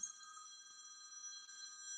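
A telephone rings with a steady electronic tone, faint and continuous, sounding distant, with no other sound around it.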